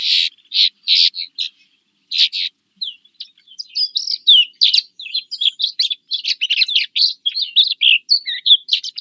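A flock of small winter birds twitters steadily in northern New York, many high, quick chirps and trills overlapping in bursts that grow denser toward the end, clear and unaccompanied by voices.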